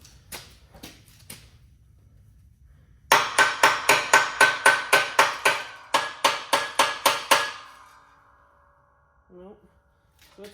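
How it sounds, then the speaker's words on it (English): A hammer taps on a cylinder part of a Ditch Witch mini skid steer during a rebuild, with about fifteen sharp metallic strikes in a steady, even rhythm and a few faint clicks around them. "I'm going to try just tapping that a little"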